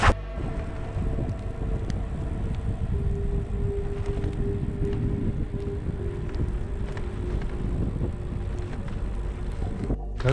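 Stormy wind buffets the microphone near Lake Issyk-Kul in the Tian Shan, a loud, steady rumbling roar lasting throughout with no talking.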